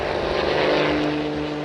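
A World War II B-17 Flying Fortress propeller bomber taking off from an air base in Greenland, its engines producing a loud, steady drone with a constant hum throughout.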